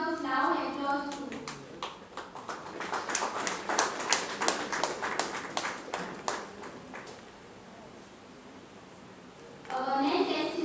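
At a student scholarship felicitation in a Goa high school hall, the audience claps in a run of sharp, distinct hand claps that swell and then fade out. Speech is heard before and after the clapping.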